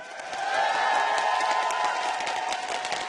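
A crowd cheering and roaring at an esports match between Dignitas and Saigon Jokers, a sustained wash of voices that swells early and holds steady throughout.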